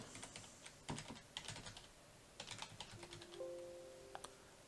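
Name, email address and password typed on a computer keyboard: bursts of quick, light key clicks in short runs with brief pauses, fairly quiet, a soft tone near the end, no voices.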